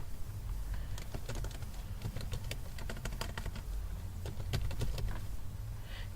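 Someone types a username on a computer keyboard, a steady run of sharp, close key clicks with short irregular pauses over a low background hum.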